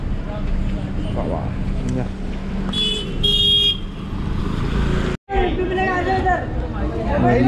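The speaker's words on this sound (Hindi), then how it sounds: "वीकेंड है बोल के बहुत सारा हैवी ट्रैफिक है यहाँ पे" Heavy weekend road traffic on a rainy hill route near Lonavala, with a steady engine rumble and several short car horn honks, while people talk nearby over it.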